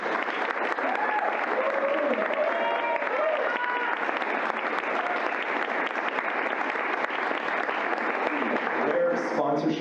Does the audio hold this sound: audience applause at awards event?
yes